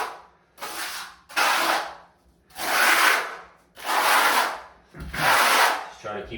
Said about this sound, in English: it doesn't matter which way you do your troweling